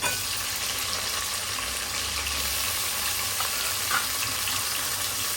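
Tomatoes go into frying onion, with garlic and chilli, for an Agri Koli crab curry, giving a soft, continuous sizzle in the pan with a faint clink partway through.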